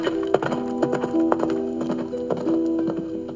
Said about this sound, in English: She mounted her horse and headed for the castle, ready to face her father once again.